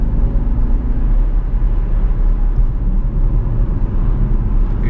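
Jaguar XF 5.0-litre V8 S in race mode, its engine a loud, steady, deep drone with a constant rumble and no pauses, heard close up.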